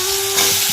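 Potatoes frying in hot oil, a loud dense sizzle heard in a brief close-up burst.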